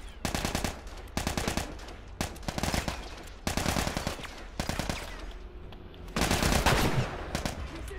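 Gunfire in The Last of Us, rapid bursts of automatic fire in several loud, close volleys separated by short pauses, with the heaviest burst near the end.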